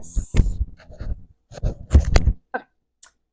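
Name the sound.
microphone being moved and clipped onto a diamond art canvas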